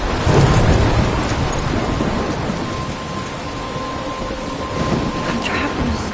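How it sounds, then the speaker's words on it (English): A heavy storm in the video game Life is Strange: dense rain pours steadily with deep rolling thunder, a loud rumble at the start and another swell near the end. "I'm trapped in a storm?"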